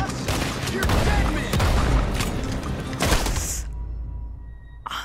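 Gunfire in the video game Red Dead Redemption 2, a rapid fusillade of loud booming shots in a dense burst, fading after a few seconds into quieter background with one last thump.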